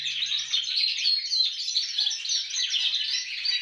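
A canary imitating a goldfinch sings continuously, close and clear, with rapid twittering trills and warbles throughout and no talking.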